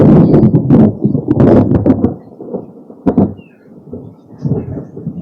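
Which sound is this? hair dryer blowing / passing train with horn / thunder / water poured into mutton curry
thunder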